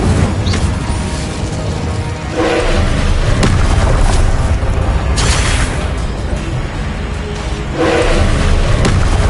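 Incendio fire spell in Hogwarts Legacy, loud repeated booming bursts and thuds in a dense roaring combat mix, several blasts spaced a couple of seconds apart.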